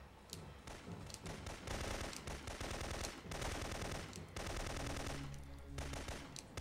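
Dense, continuous automatic gunfire from kneeling and shooting in the video game Syphon Filter 3, loud rapid bursts with brief dips, no voices over it.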